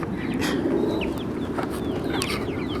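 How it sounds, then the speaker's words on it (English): A rooster on a backyard rabbit-and-poultry setup gives short calls and clucks over steady outdoor background noise, with no one speaking. "believe it or not, that's a rooster."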